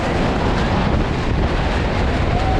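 Niagara Falls in New York roars as a continuous, loud broadband rush of falling water with steady wind buffeting, no voices, unchanging throughout.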